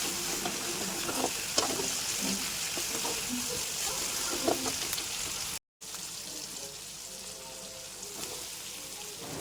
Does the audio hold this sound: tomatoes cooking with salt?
yes